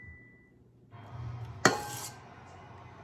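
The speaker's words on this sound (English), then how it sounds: "I like to just take a big spoon and just kind of get it on your spoon and put it on there" A big spoon scooping meringue onto a coconut cream pie, with a soft rustle followed by a single sharp clink of spoon on dish, close and otherwise quiet.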